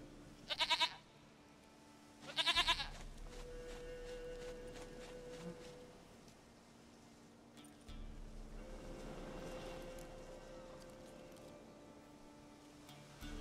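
Goat bleating in the video game The Witcher 3: two short, loud bleats close together near the start, followed by a quiet bed of low in-game ambience.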